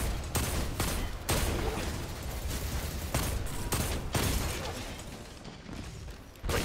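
Repeated bursts of enemy gunfire in Destiny 2 during a solo Nightfall, loud sustained volleys broken by short gaps over a dense game background.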